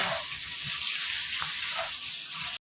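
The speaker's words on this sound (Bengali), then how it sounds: "হলুদ দিয়ে একটু জাস্ট ফ্রাই করে আমি নামিয়ে নেবো" Steady, close hiss and crackle of potato pieces frying in hot oil with turmeric, part of a fish curry, sizzling evenly throughout before cutting off abruptly.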